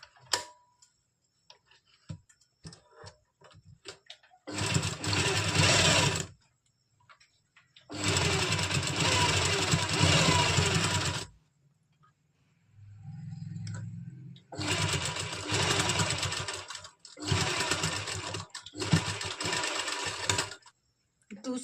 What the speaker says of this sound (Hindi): इस तरह से इसमें भी हमने स्टिच लगा देना है